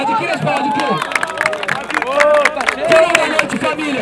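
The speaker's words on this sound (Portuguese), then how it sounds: "Vocês vão bater palma nessa porra." A crowd at the final of a street rap battle in São Gonçalo claps and cheers loudly, with hands and shouting voices blending into a dense, continuous roar that carries steadily throughout.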